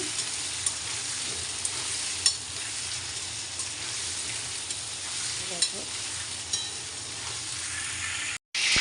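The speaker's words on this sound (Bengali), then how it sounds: "বাঁধাকপি করবো তার জন্য আলু ভেজে নিচ্ছি" Potatoes frying in hot oil for a cabbage dish, a steady close sizzle and crackle with small pops, faint stirring and a brief drop to silence near the end.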